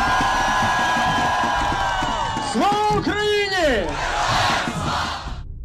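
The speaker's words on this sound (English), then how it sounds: "effective tools like catchy sing-alongs and chanting are employed" Large crowd at a Ukrainian street rally shouting and chanting together in loud, rhythmic surges, voices rising and falling in unison with scattered whoops.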